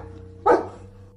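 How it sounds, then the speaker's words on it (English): A skinny dog lets out a single sharp bark, close and loud, rising out of a quiet background with a faint steady hum. "A skinny dog stood in her way. It barked and barked."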